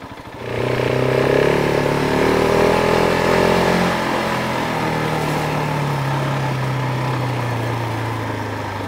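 A KTM 690 Enduro single-cylinder motorcycle ridden off-road revs up sharply and then holds a steady, loud, buzzing engine drone close by, with the pitch easing slightly as it cruises, with wind noise and no talk.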